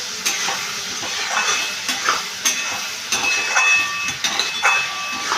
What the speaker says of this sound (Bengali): আলুগুলোকে দিয়ে আমি আলুর সাথে মশলাটাকে ভালো করে কষিয়ে নিচ্ছি।